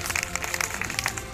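Short burst of clapping hands from a group at an event, a quick uneven patter of claps at moderate loudness with no talking over it.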